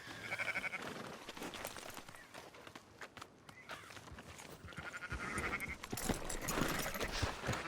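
Sheep in Red Dead Redemption 2 bleating repeatedly over a busy, noisy background with footsteps and movement, the calls rising and falling across the whole stretch.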